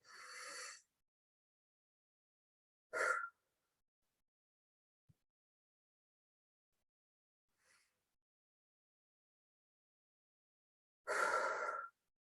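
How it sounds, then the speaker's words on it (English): Deep, slow breathing during a guided relaxation exercise: three long, audible exhalations, close and clear, are spaced several seconds apart, with near silence between them and one faint softer breath. "And keep on breathing."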